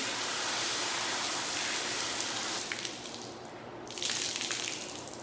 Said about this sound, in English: And then I take a hose and I run hot water through mine.